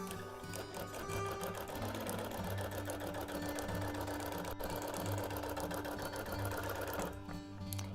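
A sewing machine quilts a wholecloth baby quilt with a steady, rapid mechanical whir and clatter that runs almost the whole time. It pauses briefly near the middle and eases off just before the end, close and alone with no voices.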